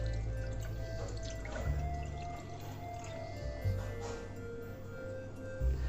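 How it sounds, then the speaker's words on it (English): A glass of milk is poured into a cooking pot while preparing kashayam, a homemade immunity-boosting drink. The pour makes a continuous trickling, splashing liquid sound at moderate distance over a low background hum. "And now we are going to pour the glass of milk that we have."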